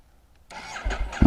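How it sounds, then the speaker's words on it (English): After a brief quiet moment, a Ducati Multistrada 1260 S motorcycle with a full Termignoni exhaust cranks and catches, sputtering into a rough, throaty idle close by. "let you have a listen to the exhaust on this little bike"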